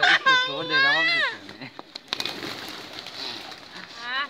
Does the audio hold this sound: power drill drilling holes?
no